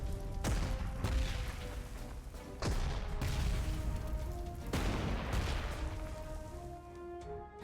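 Artillery rounds from Panzer Corps 2 boom several times in a war-game scene: loud, sharp blasts roughly every two seconds, each followed by rumbling decay, with a sustained tonal hum underneath.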